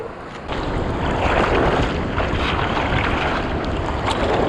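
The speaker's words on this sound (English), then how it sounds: "an ocean that has riptide warnings all over it and chaotic waves breaking 300 yards out" Chaotic ocean surf breaks offshore at a Florida beach near St. Augustine, heard as a steady wash of waves and wind noise that swells after a quieter first half-second, with no voices.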